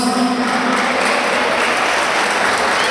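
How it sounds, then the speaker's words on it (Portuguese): A crowd at a fight event in Brazil, BH Sparta 8, breaks into loud, sustained applause, a thick wash of clapping from many people with no break. "A salva de palmas."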